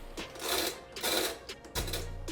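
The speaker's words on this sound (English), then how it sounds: "let's finish the job with the washing machine" A washing machine churns Nike Book 1 sneakers with detergent pods on a cold, regular cycle, giving faint rhythmic swishing surges and a low hum that kicks in near the end.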